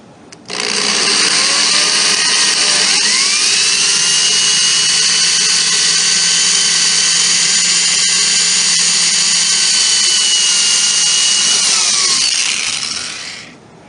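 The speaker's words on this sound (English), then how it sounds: "I drill a 3/16 hole." A steady, loud power drill whines continuously boring a 3/16-inch hole in a wooden cabinet door for about twelve seconds, starting abruptly and winding down at the end, with no voices.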